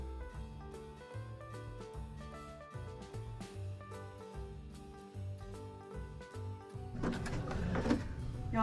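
A sewing machine zigzag-stitching fabric for an envelope-closure decorative pillow cover runs in rhythmic mechanical bursts with brief pauses, then swells louder and fuller near the end. No voices are heard.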